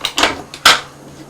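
Drawer aboard a Vaan R5 recycled aluminium catamaran sliding open or shut in two quick broadband scrapes, the second one sharper and louder, with soft clicks and a quiet cabin between them.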